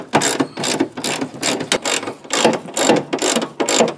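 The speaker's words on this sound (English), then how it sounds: "these are going to be the two we need to loosen right here" A ratchet is loosening the hood bolts on a GMT800 truck, producing a rapid series of close, loud clicking bursts in steady strokes with short pauses between them.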